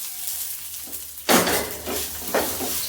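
Crushed ginger and garlic drop into hot oil in a pan already holding cumin and pepper. A sudden loud sizzle bursts up, then keeps crackling steadily, with a second surge of spitting near the end.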